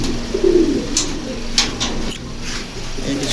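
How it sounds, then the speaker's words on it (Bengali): Pigeons in a collection kept for sale, giving soft low coos in short bursts close by, mixed with faint shuffling and background bird noise. "এই কিছু কবুতর আছে"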